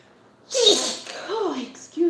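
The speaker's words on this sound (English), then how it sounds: "Please allow me to sneeze first." A single sharp sneeze rings out close by, quickly followed by someone speaking.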